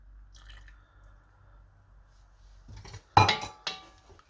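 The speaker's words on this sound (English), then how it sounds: "we're gonna pour the cream in nicely" Cream being poured into a chicken and mushroom stew in a pot, a faint trickle building into a short, close splashy burst with a softer follow-up, alone with no talk.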